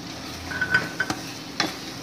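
Onion and green chillies dropped into a hot pan while cooking Arabic chicken stuffed bread, soft sizzling under light stirring, with a few metallic clinks of a spoon against the pan.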